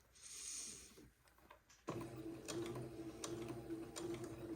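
A sewing machine stitching a seam on lace for a baby wedding outfit starts after a quiet pause, then runs in a faint, even mechanical whir with regular ticking taps.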